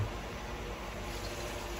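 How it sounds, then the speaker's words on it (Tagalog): Water pours steadily into a cooking pot holding chicken for sinigang, a continuous close splashing rush through the whole moment. "maraming tubig ang ilalagay"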